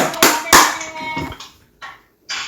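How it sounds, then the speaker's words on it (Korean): A church congregation claps during a Korean worship service, a few sharp, loud claps and bursts that fade quickly, with gaps of near silence between them. "우리 박수로 하나님께 영광을 올려드립시다"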